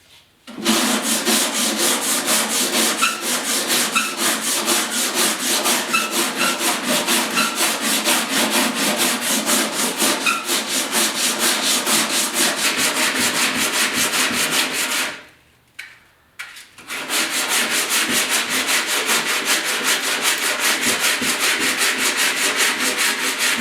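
Close, steady sanding of body filler on a Porsche 911 fiberglass decklid: loud continuous rasping strokes that stop briefly near the end and then resume, with no talking.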